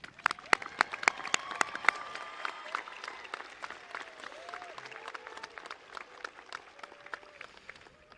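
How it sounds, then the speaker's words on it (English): A crowd at a 2024 high school graduation ceremony applauds with scattered, sharp claps and cheering, loudest at the start and gradually thinning out. "Round of applause, please."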